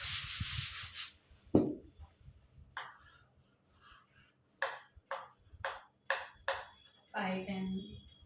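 Someone rubs a board clean to erase writing, giving a series of short, separate scrubbing strokes that are fairly faint and broken by pauses.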